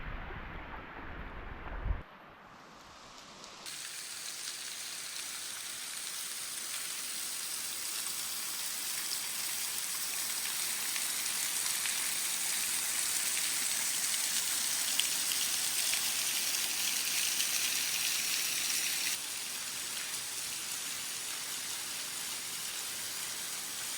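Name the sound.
rain falling on a Hanksville, Utah hiking trail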